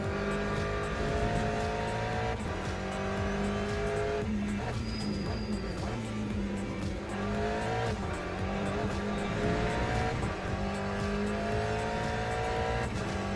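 Race car engine revving hard through gear changes, with tires squealing and skidding, in the sim racing game Automobilista 2 (AMS2). The engine is loud and steady throughout, with rising whines after each shift.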